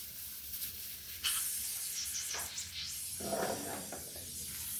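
Compressed air hisses from a leaking inlet on a Nimrod airgun, a steady broadband hiss with bursts and surges that stays close and moderately loud.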